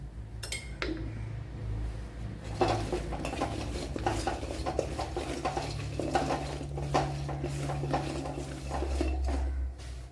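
Sliced okra being mixed with chili powder and salt for a Kerala-style vendakka dish gives steady scraping, stirring and clinking of utensils against a bowl for about ten seconds, with no talk.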